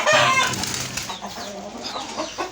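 Tiger chicken rooster and hens cluck in a short burst of close, overlapping calls, loudest at the start and then a run of quicker, softer clucks.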